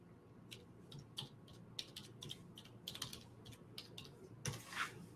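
Keys on a computer keyboard tap in quick irregular bursts, faint and close, with no talk over them.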